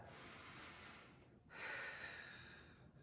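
Full, slow breaths during a Pilates reformer workout, an airy inhale and exhale with a short pause between, close and soft, without talk.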